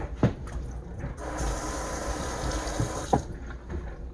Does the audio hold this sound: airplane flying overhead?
no